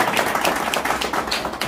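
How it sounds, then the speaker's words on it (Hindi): Audience at a grand inauguration ceremony applauding to welcome a special guest of honour; dense, steady clapping from many hands fills the whole moment, close and continuous without pause. "जोरदार ताली से इनका"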